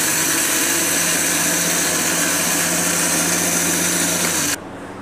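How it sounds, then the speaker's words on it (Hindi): An electric grinder coarsely grinds roasted spice masala for pickle, a steady loud whirring buzz running continuously for several seconds before cutting off abruptly. "फिर हम इसको थोड़ा सा जो है ना ददरा सा पीस लेंगे।"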